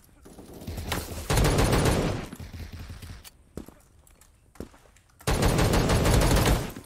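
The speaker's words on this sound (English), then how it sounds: "this semi-auto is the best gun in the game" Semi-automatic gunfire in a first-person video game, coming in two loud sustained bursts of rapid shots with a quieter stretch of scattered single pops and game noise between them.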